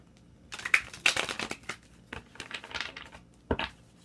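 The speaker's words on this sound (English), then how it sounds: "let me go ahead and get one more shuffle" Tarot cards are shuffled by hand in a run of quick, crisp riffling clicks and soft flutters, close and fairly quiet, with short pauses between the bursts.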